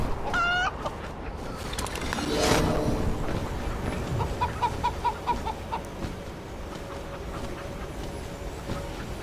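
A chicken in a video game gives a squawk, then a run of quick rhythmic clucks over a soft, steady game background, fairly close and without talk.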